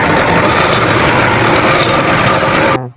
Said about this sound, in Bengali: জেনারেটরের স্টার্ট বাটনে সুইচ দিলাম